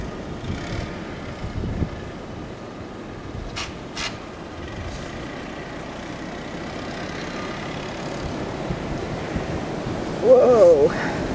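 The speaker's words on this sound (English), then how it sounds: "Here comes a wind gust." A gusting blizzard wind roars steadily outdoors in broadband rushing waves, swelling into a stronger blast near the end, with brief voices in the background.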